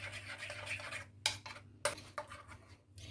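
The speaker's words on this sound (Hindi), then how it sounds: "अच्छे से हम इसको मिक्स कर लेंगे।" Nimko batter is stirred with a few spoonfuls of oil in a bowl, giving close, continuous scraping and rubbing with a couple of sharper clinks of the utensil against the bowl.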